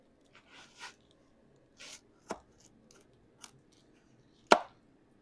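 A sharp knife slices a cantaloupe on a cutting board in quiet, soft, separate strokes. The cuts come with small crisp snaps, and one louder thud lands near the end.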